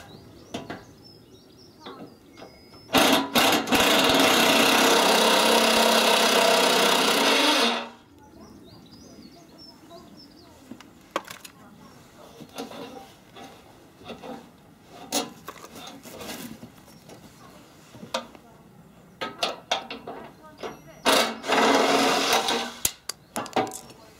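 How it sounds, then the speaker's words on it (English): Power drill working a bolt loose on the front wing of a Jeep Grand Cherokee CRD 3.0: one loud, steady whir of about five seconds, then quieter clinks and handling noises, with a brief second burst near the end. "Gonna see if I can get my drill on that."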